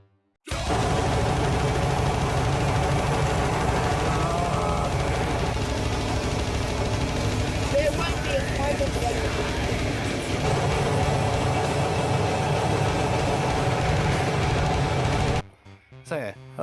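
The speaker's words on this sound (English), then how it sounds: "Here's another harvester, by the way. This one's an old dinosaur." An old cabless grape harvester's engine runs steadily at close range, a loud continuous mechanical drone with rattling machinery that cuts off near the end.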